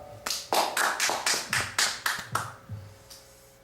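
A church congregation claps about nine times in an even rhythm to welcome the pastor, each clap crisp and close, the claps thinning out and fading at the end.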